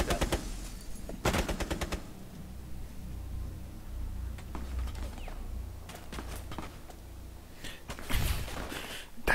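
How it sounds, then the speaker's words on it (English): Shotgun blasts in Rainbow Six Siege, a few sharp loud shots spaced across the moment with mechanical clatter and handling noises between them. "That shotgun's so stupid."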